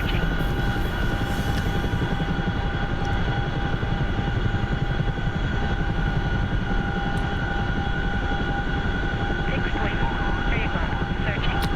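Continuous drone of an aircraft engine in a video game, steady and loud throughout, with faint tonal hums layered over a dense low rumble.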